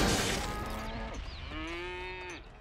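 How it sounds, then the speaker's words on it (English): A cow moos in a cartoon schoolyard scene, giving a long, loud, drawn-out low call with a second sustained bellow after a noisy burst, no talking in between. "Since when do we have cows at school?"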